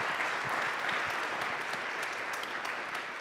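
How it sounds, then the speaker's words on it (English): An audience gives a sustained round of applause for Dr. Raphael at a lecture, a dense, steady wash of many hands clapping that holds evenly loud throughout. "Can we just give him another round of applause?"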